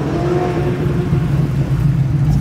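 Deep, steady engine rumble from an LS-swapped, supercharged Nissan 350Z at a street car meet, close and loud with a sustained droning tone and no speech.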